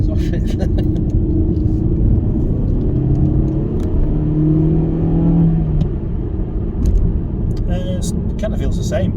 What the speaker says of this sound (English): You still have to rev knackers off it.